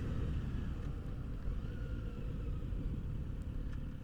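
A Kawasaki Z900 RS motorcycle's engine drones as the bike is ridden, a low steady rumble with wind noise, quiet and continuous.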